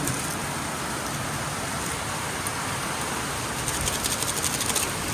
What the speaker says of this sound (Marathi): पाऊस बघा काय जोरात आला